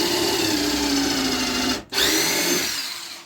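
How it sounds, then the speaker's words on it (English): Power drill boring into a 3/4-inch board, a loud whirring whine that cuts off briefly, restarts, then winds down and fades near the end. "I'm going to drill into the 3/4."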